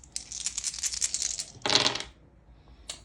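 Several dice for the Cthulhu: Death May Die board game clatter and rattle across a table in a quick rolling burst, then a second louder tumble, and a brief final click, close and alone.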